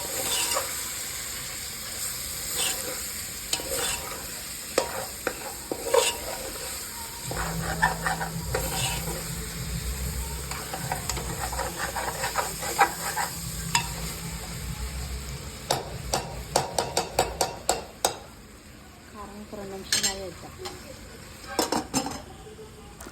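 Chopped tomatoes with coriander and mint stirred in a sizzling frying pan for Telangana boti curry, a spoon scraping and clinking against the pan in steady bursts over continuous frying hiss, growing busier toward the end.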